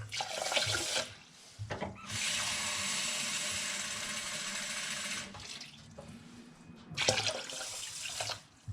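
Water runs from a tap into rice for cooking in three bursts, a long steady pour in the middle, with short pauses between and no voices.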